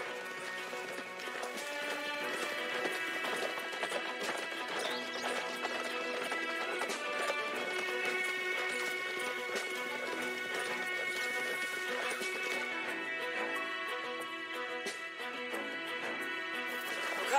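Horses trotting in Red Dead Redemption 2, with steady clip-clop hoofbeats running continuously under dense game audio and a faint, fairly distant mix.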